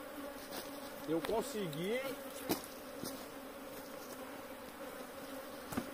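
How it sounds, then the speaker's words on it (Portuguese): Honey bees buzz close by around the hives during a honey harvest, a wavering drone passing near the microphone with sharp clicks and handling noises, while a person briefly speaks quietly. "Mais abelha, olha. Essa abelha aqui."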